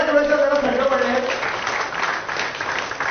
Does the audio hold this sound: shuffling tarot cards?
no